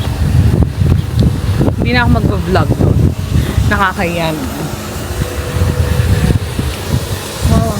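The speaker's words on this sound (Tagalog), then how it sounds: "Wow, ang hangin." Strong wind roars and buffets the microphone steadily in an outdoor residential area in Belgium while people talk over it.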